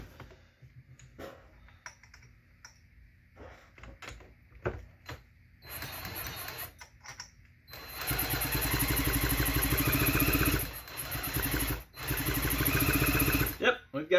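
A McCulloch Pro Mac 610 chainsaw sputters through a few pulls and clicks, then fires and runs loudly with a buzzing two-stroke rattle, briefly dipping before revving on, close by.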